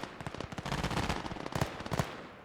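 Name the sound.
sniper gunfire in the video game Gates of Hell Ostfront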